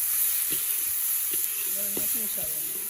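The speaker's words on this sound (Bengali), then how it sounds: "সেই পরিমাণে লবণ দিয়ে দেওয়া হলো, দিয়ে এবার নেড়ে নেওয়া হচ্ছে" Chowmein noodles, one packet, stir-fried with salt in a pan, giving a steady high sizzle with a few soft scraping stirs and faint low murmurs beneath, close and continuous.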